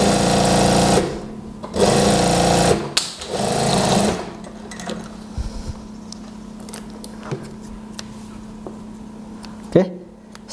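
A sewing machine stitches the shoulder seam of a house dress in two or three loud bursts of rapid mechanical chatter, then stops, leaving quieter handling noises and a voice speaking.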